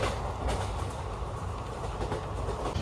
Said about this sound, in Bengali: তোমরা দেখতেই পাচ্ছ ট্রেন রানিং হয়ে গেছে ভালো স্পিডে